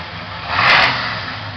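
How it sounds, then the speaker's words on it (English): A big-block car engine is revved once, swelling to a brief loud roar and then easing back down to a steady rumble, close by, with no talking. "Let's see how loud this car is."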